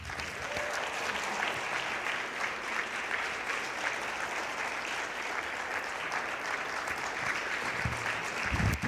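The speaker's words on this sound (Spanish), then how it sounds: "¿Qué tal si le das un aplauso?" A church congregation applauds steadily after a sermon, a dense, even wash of many hands clapping that holds for several seconds at moderate loudness with no voices over it.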